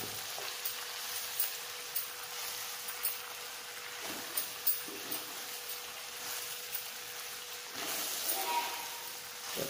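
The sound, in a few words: sautéing vallarai greens in a pan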